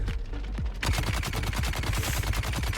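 Plasma cannon weapon in the Dune Awakening video game firing a rapid, continuous stream of loud, punchy shots in a steady fast rhythm, close and dominant with no talk over it.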